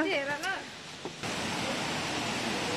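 A steady broadband rush of a waterfall in Shivapuri National Park fills the scene after a short burst of excited hikers' voices at the start.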